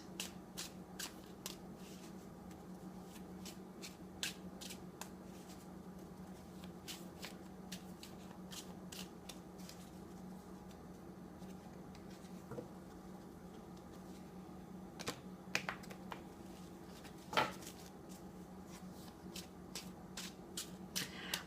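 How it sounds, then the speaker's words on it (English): Tarot cards shuffled by hand, a long run of close, quiet riffling and flicking over a low steady hum. "I'm just going to continue to shuffle them here until I feel that they are ready"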